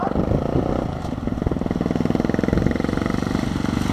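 A motorcycle sets off on a licence riding test course, its engine chugging close and loud in a fast even pulse as it pulls away.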